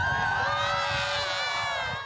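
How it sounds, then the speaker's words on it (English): A crowd in a small town cheering for a Canadian Olympian, many high voices shrieking and shouting together in one loud, sustained burst that fades out at the very end. "And a cheer!"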